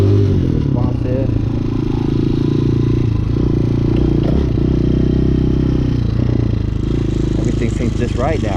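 A Hawk 250cc motorcycle runs on the road with a steady, low engine drone and some clattering, captured up close throughout, with a rider's voice heard over the engine.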